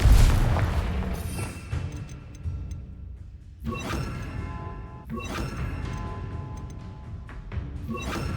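Confringo fire-blast spell explosions in Hogwarts Legacy: a loud booming blast at the start, followed by two more heavy impacts with crackling debris and rumbling game effects between them, with no voices.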